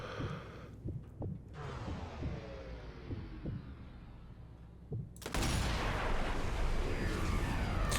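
In the Sniper Elite 2 video game, slow heartbeat-like thumps pulse under a quiet hollow ambience before a sudden loud, sustained burst of a sniper rifle shot and its impact.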